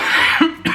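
A single sharp cough from someone who says they have coughed constantly for thirty years, close and loud, with a brief second catch following a short pause.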